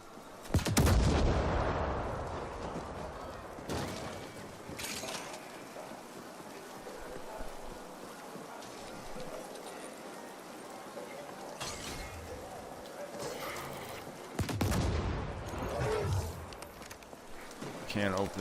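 Turret gunfire in The Ascent video game, booming blasts that come in loud bursts and a long sustained barrage, with a person talking over it.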